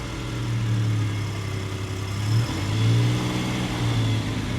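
A 1972 Citroën SM with its Maserati engine runs steadily close by, its low idle swelling into a couple of revs before settling again, with no voices over it.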